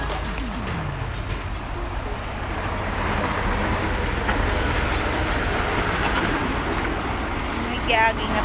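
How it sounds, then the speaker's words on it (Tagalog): A truck rumbles across a small, narrow rural bridge in Baungon, Bukidnon, the low broadband roar swelling and holding steady, with faint birds chirping near the end. "May kiagi nga truck."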